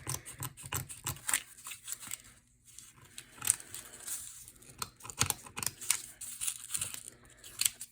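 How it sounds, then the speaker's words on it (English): Scissors snip up both sides of a layer of card in quick, light bursts, close and quiet, with short pauses between the cuts. "So I'm just gonna snip up the sides on both sides here."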